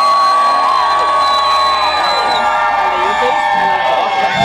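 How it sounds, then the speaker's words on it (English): A spring break resort crowd at Riu Vallarta in Puerto Vallarta, Mexico cheers, whoops and shouts for a contestant in a poolside competition, a dense, lively roar with high yells throughout. "Ruidos y aplausos por su favorito."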